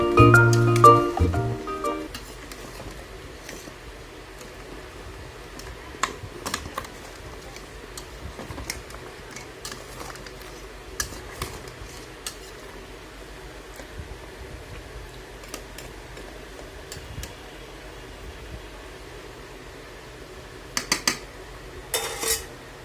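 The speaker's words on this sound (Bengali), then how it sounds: "আপনারা এভাবে ভালোভাবে নাড়বেন 30 মিনিট ধরে" A spoon stirs a home-style Bengali beef and potato curry in a pot, with soft, steady scraping and occasional clinks, plus a louder clatter of utensils at the start and again near the end.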